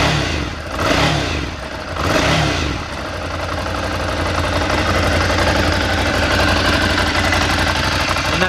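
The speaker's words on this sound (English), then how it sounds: "that's the unmistakable sound of a air-cooled Ducati V-twin." An air-cooled Ducati Scrambler Desert Sled V-twin engine blips twice with loud revs, then settles into a steady, lumpy idle with a mechanical clatter.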